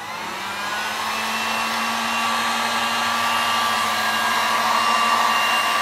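Fan of a hot air soldering station blowing steadily, a loud continuous whooshing hiss that builds slightly in strength, heard alone.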